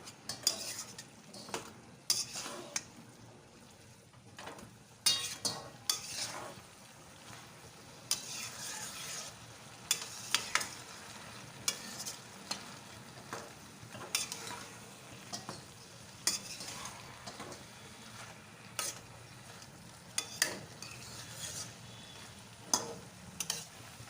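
Cabbage with raw ginger and a little sugar is stir-fried in a pan, with a steady soft sizzle broken by repeated sharp scrapes and clinks of a spatula against the metal, close and without talk.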